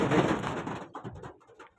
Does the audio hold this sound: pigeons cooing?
yes